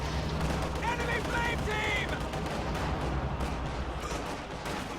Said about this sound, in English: Field Gun moves up to a very aggressive location to fire on that Ostwind